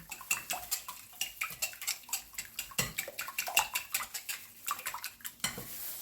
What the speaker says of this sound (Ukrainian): тут не потрібно міксера, то все ми будемо звивати так е, вінчиком